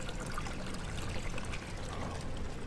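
Shower water runs steadily in the horror game Amnesia: The Dark Descent, a constant hissing, pouring stream that fills the whole moment without pause or voices.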